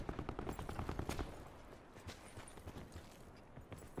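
Automatic gunfire in Black Ops 4 during a duo match, rapid bursts of shots at moderate distance with dense rattling, fading into scattered reports.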